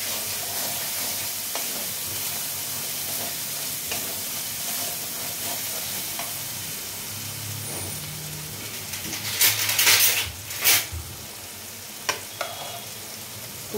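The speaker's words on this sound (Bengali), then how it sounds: "সিদ্ধ করে ঘুগনিটা দিয়ে দেবো।" Boiled peas for ghugni go into a pan of spiced oil and are stirred, with a steady loud sizzle throughout and a burst of clattering spatula scrapes partway through.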